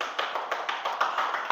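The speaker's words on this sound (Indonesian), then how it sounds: "Kasih tepuk tangan dulu." A short burst of students clapping in a classroom, quick and steady and fairly close, with no talking over it.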